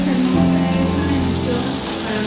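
A concert crowd applauding during a 2015 tour of Colombia, with a dense, steady wash of clapping under sustained musical tones.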